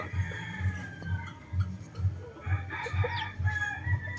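A fighting rooster in a pen, with low rhythmic clucks or wingbeat thumps pulsing about twice a second and a strained, raspy crow-like call rising near the middle.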